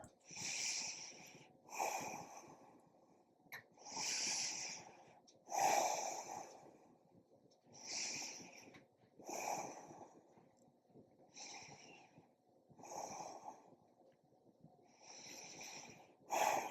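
Slow, deep breaths during a yoga inversion session, each inhale and exhale drawn out over about a second with short pauses between, eight or nine cycles in a steady, even rhythm, close and fairly soft, with no talking.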